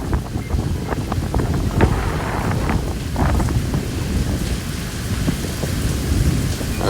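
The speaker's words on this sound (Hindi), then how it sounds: "गरज चमक" Night thunderstorm with heavy rain and wind storm: a steady, dense roar of rain and gusting wind with low rumbling thunder rolling underneath, loud and continuous throughout.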